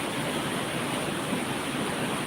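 Water from the mountain rushes down steadily during a landslide in Baguio City, a dense, continuous broadband roar close by with no pauses and no voices.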